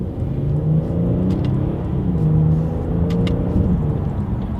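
A 2020 Genesis G90 accelerates in sport mode during a paddle shifter test, its engine drone rising in steady pitch sweeps with brief dips at each gear change, heard from inside the cabin over road and wind noise.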